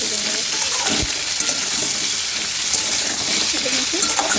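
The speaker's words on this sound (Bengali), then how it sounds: "ছোলাটা এই আলুর সাথে পেঁপের সাথে ভেজে নেবো" Potato and papaya frying with boiled chickpeas in a pan, a steady loud sizzle running throughout with occasional stirring scrapes and clinks.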